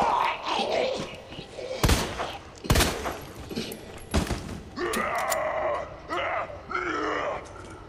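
Gunshots in the video game Resident Evil 2 Remake, three sharp, loud shots spaced about a second apart amid grunting and groaning sounds, followed by rasping creature noises.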